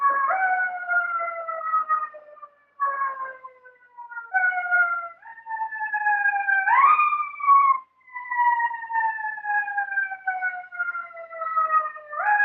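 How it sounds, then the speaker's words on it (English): A siren wails in clear rising and falling tones, repeating in long sweeps with brief gaps between them, steady and fairly loud with nothing else heard. "I hear sirens."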